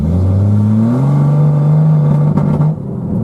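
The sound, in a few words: 1991 Jeep Cherokee engine revving and breaking up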